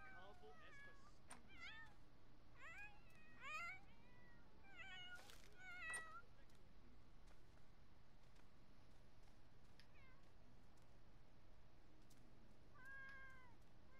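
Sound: cat meowing in the video game Sims 4

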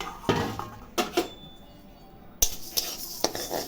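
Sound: dry-roasting mashkalai and mung lentils in a wok

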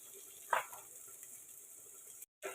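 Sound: onions and chillies frying in a pan

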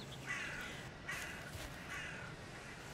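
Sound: crows cawing in video game Valheim, Black Forest

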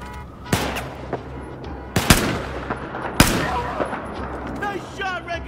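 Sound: gunfire in video game Battlefield 4

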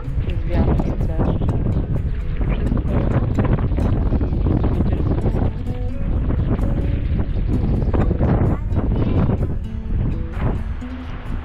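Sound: wind at a lake

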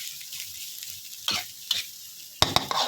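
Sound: stir-frying sweet preserved radish

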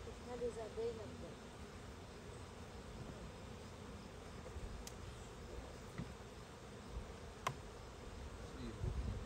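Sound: honeybees buzzing around an open beehive

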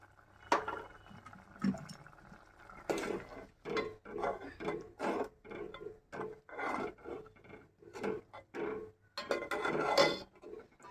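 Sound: stirring ground sesame into ridge gourd curry in a pan

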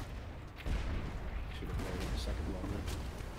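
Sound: ship cannon fire in video game Blazing Sails

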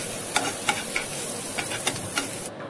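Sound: sautéing curry leaves and onions in a frying pan

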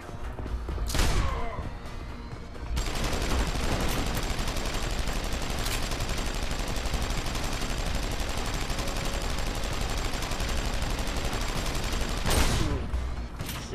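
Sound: gunfire in video game Deus Ex: Human Revolution

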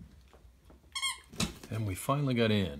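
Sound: dog squeaking toy while playing

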